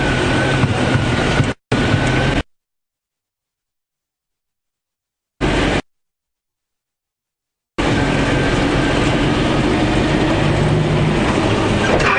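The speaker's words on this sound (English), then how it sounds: "I'm just going to put the vehicle to low range" A safari vehicle's engine runs in low range at low revs, loud and close, cutting in and out in bursts with silent gaps between.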